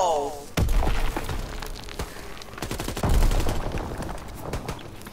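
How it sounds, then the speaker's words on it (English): Gunfire and explosions in the Call of Duty WWII video game: dense bursts of shots and loud booms, with heavy blasts near the start and around the three-second mark, mixed with players talking. "Oh, the explosions."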